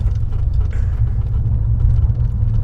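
A 2017 Acura RLX with P-AWS rolls over rough, divot-pocked pavement, giving a steady, heavy low rumble of road and tire noise inside the cabin with small bumps through it and no talk.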